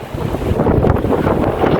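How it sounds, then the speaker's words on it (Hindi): A strong windstorm at a night campsite, with heavy gusts buffeting the microphone in a loud continuous roar that surges and eases with no voices. "ओ भाई ये देखो कल की तरह आंधी आ गई फिर से।"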